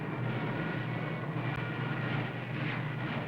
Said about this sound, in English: Low-flying German bombers sought targets.